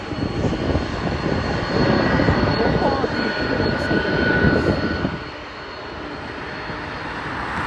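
An Air India passenger jet on its landing approach near a Toronto airport at night roars loudly and steadily, then the engine noise drops off and eases to a lower rumble.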